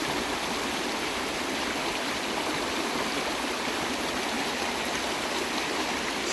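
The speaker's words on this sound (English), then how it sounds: "this part of the river." A river stream rushes steadily outdoors along a nature walk with wildflowers, a dense, even wash of flowing water with no pauses or voices.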